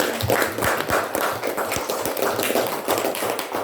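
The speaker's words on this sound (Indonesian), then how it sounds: "silakan bertepuk tangan, beri aplaus untuk" A student audience claps for a presenting group in a university class, quick scattered hand claps forming a brief, lively round of applause close by.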